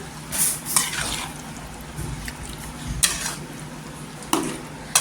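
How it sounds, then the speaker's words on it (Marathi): Chicken mixed with ground spinach in a metal pan, stirred with a spoon that clinks and scrapes against the pan in irregular knocks, with a faint low sizzle underneath and no talking. "आणि पूर्णपणे मिक्स करायची चिकन।"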